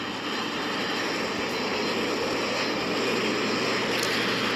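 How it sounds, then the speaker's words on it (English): An airplane takes off with a broad, steady jet roar, a dense rushing hiss that builds slightly in loudness over a few seconds, heard from a moderate distance. "chat, but it's already taking off."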